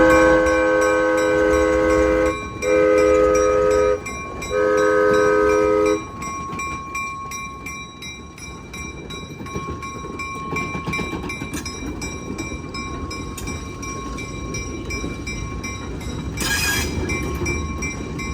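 An ALCO RS-1 diesel locomotive at the Danbury Railroad Museum during a Steel & Wheels event, sounding three loud horn blasts before its engine rumbles on steadily, with a brief high squeal near the end.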